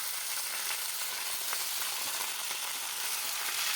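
Cabbage and spinach greens fry in a pan on a clay stove, a bright continuous sizzle with faint crackles and stirring, close and steady without speech.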